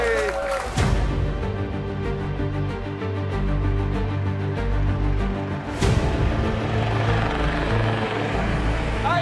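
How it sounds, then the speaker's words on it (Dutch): Helicopter arriving at an outdoor charity event, a loud continuous rotor and engine drone that stays steady and close throughout, with a sharp burst around the middle and voices faintly under it. "Hij is er, de helikopter voor Justin!"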